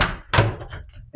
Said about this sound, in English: Make sure this door is latched so that our cats don't push it open.